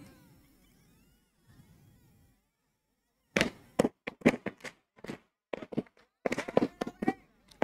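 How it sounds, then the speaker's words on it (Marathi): Fireworks bursting at a night underarm cricket league event, a rapid series of sharp loud bangs and crackles in clusters after a quiet lull with faint background murmur. "यानंतर फटाक्यांची इथे आतषबाजी होईल"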